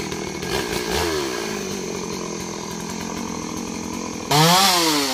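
A chainsaw runs steadily and loudly while felling large trees, its engine droning through a cut before revving higher near the end; no voices.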